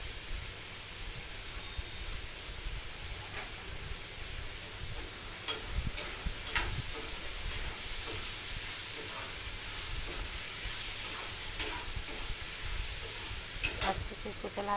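Spiced potato curry being stirred in a pan, a steady soft sizzle of frying under a constant hiss, with scattered scraping clicks of the spoon against the pan throughout.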